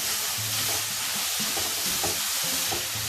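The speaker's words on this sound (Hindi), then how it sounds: "तमाम सब्जियां जो है वो हम 2 मिनट सिर्फ सौते करेंगे" Vegetables sautéing in a frying pan for garlic vegetable fried rice, a loud steady sizzle and hiss with faint stirring scrapes underneath, close up and continuous.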